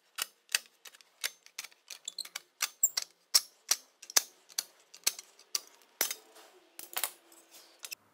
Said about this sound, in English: So I'll use aircraft shears to cut on that line.